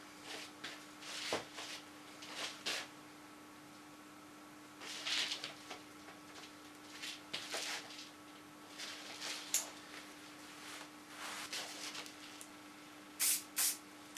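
Hairspray from an aerosol can is applied to freshly cut and coloured hair in a salon, heard as several short, faint hissing bursts at irregular intervals with quiet pauses between them.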